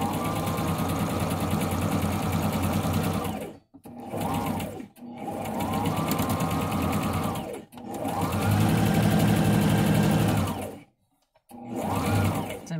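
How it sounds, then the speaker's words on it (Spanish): A sewing machine chain-stitches patchwork pieces in bursts of fast, steady whirring close by, each run stopping briefly before the next begins. "lo estoy cosiendo en serie para pasar la costura por el otro lado"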